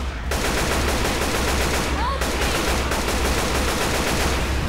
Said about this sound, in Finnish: Mä justiin ammuin Henkan tyttöystä